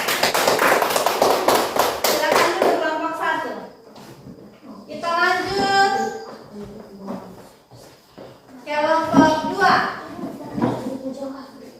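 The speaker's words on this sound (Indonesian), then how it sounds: "kita tepuk tangan lagi untuk kelompok 1" A classroom of students claps for a group after its presentation, a dense burst of applause lasting a couple of seconds before a teacher's voice takes over with talk.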